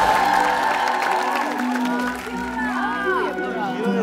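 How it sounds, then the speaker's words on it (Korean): A TV studio audience applauds and cheers as a team is welcomed onstage, a loud burst of clapping and whoops that eases slightly and carries on under talk and music. "여러분, 그 첫 번째 팀을 큰 박수로 해주시기 바라겠습니다"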